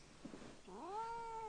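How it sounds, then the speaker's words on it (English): A cat meows once in a drawn-out, rising then steady cry, fairly close and clear over a quiet room hum, with a faint stir just before it. "Is that a kitten?"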